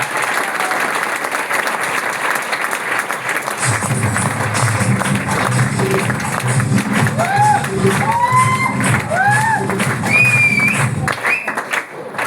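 Audience applause welcomes a platinum distributor at a Mi Lifestyle Marketing company event, a dense crowd clapping steadily for several seconds after an opening stretch of hall noise and voices, with cheering tones rising over it.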